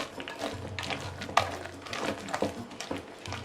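A spoon stirs raisin bread batter in a bowl: soft, thick scraping and squelching strokes, fairly quiet and close, with a few sharper clicks against the bowl and no talk.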